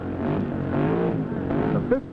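A 1939 Fiat drag car powered by a Chevy engine launches off the line, its engine roaring in a steady, moderately loud surge with a brief sharp spike near the end.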